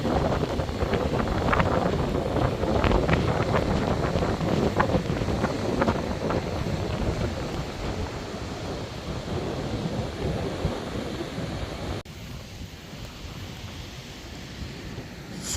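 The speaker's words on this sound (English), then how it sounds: "enjoy the peace and quiet apart from the roaring noise of the ocean" Roaring ocean surf and gusting wind on the coast at Withernsea, a dense continuous rumble with wind buffeting the microphone, loud at first and easing slightly toward the end, with no talk.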